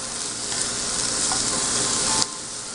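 Asparagus, garlic and spinach sizzle in a frying pan for a spicy Italian frittata, a steady loud crackle with stirring scrapes, close up and without voices.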